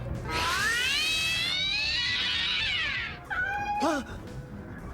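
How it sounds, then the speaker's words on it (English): A long, drawn-out wailing meow, followed after a brief pause by a shorter, rising meow, loud and close. "His gimmick is meowing."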